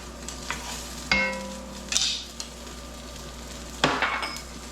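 Salt pork renders in a metal pot with a low sizzle, punctuated by several ringing clanks and scrapes of a utensil against the pot.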